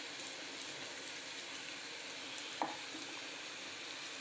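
Onion sautéing in a pan with cumin, a steady soft sizzle throughout with one brief clink near the middle, no talk.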